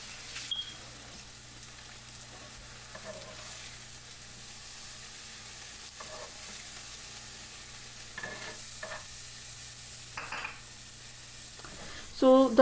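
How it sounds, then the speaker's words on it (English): Bhaji, vegetables and an egg omelette frying in a little oil, a constant light sizzle punctuated by occasional scrapes and stirring clatters, close and moderately quiet, with a louder clank at the end. "where I'm making some bhaji and some fried vegetables and some egg omelette, just to show you that how little oil I used"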